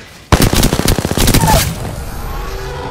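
A sudden loud burst of rapid automatic gunfire from Apex Legends rattles for over a second, then trails off into a ringing echo with faint background sounds.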